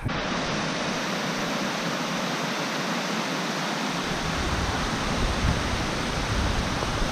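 Waterfall near a hiking camp, a loud, steady broadband rush of falling water that fills the whole clip without change, no voices.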